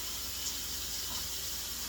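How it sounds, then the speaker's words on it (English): Hot water runs steadily from a kitchen tap to rinse melted cheese off, a close, even gush of flowing water with no talk over it. "You rinse this shit off with some hot water real quick"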